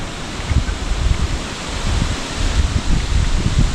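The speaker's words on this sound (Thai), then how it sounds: "ลมแห้งเลย" Steady dry wind buffeting the microphone, with low rumbling gusts and a broad rustling hiss throughout.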